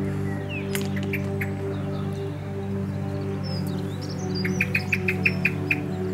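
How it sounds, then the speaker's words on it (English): Bird chirps over a steady low hum, with scattered calls early on and a quick run of repeated, brighter tweets near the end. "This is a bird."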